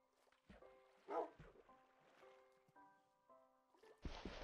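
A dog barking in Minecraft, with a few short yips and barks spread over the clip, soft and fairly close, set among quiet game tones and a louder noisy burst at the end.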